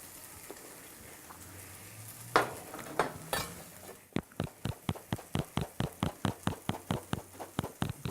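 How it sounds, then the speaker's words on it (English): Orange-fleshed sweet potato fries in a pan with spinach. A soft, noisy stretch gives way to a steady run of sharp, evenly spaced spatula strokes against the pan, close and moderately loud, over a faint sizzle. "the orange flesh sweet potato does not really stick onto the surface, and yet you're still frying"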